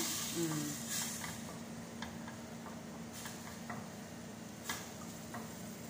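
Beans with onion and tomato cook in a pan, giving a faint sizzle with scattered clicks and scrapes of stirring, quiet and close.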